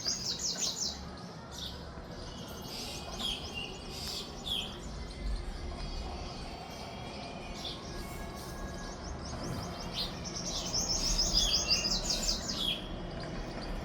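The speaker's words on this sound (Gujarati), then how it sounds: "બહાર પક્ષીનો અવાજ આવે મસ્ત" Morning birds chirp and sing outside a balcony, bright tweets at the start and again near the end over a soft, steady background hum.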